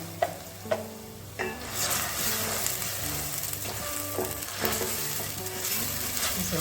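Ground masala fries in a pan with browned onions for a broad beans gravy. A steady close sizzle runs throughout, with sharp scraping stirs near the start, busier clattering stirring later, and no talking.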